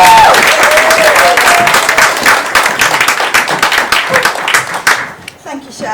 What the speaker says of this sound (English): So can you do a massive round of applause, please?